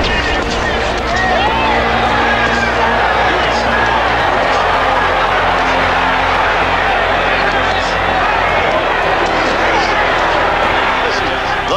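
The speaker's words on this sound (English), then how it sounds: "The fans cheer like it's" A boxing crowd at a fight involving Larry Holmes roars loudly and continuously, a dense wash of cheering and babble with scattered claps throughout.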